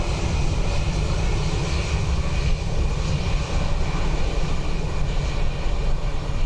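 A Ryanair airliner at Dublin Airport on a windy day gives a continuous, loud engine roar that stays steady and broadband throughout, heard alone without talk.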